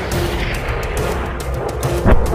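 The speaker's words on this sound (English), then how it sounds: "Massachusetts finally fired her first shots from her 406mm guns." A heavy gun blast from the battleship USS Massachusetts firing its 406mm guns booms near the end, rising out of a rumbling, noisy background.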